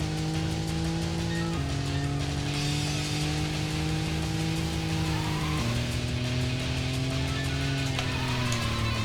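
Car drifting in the Racing Lagoon video game: a loud, continuous engine drone with steady tonal pitch that steps down and back up through gear shifts, overlaid with a sustained tire squeal throughout.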